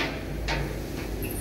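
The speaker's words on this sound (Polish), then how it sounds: "Te drzwi już hałasują trochę." Elevator doors on a 2021 Lift Service lift in Kraków, worn and somewhat noisy, sliding with a soft rumble and a couple of dull knocks over steady low machine hum, close by.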